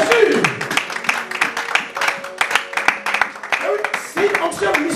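Church congregation clapping in rhythm and cheering during worship, steady sharp claps close and loud, mixed with voices and a preacher talking over them.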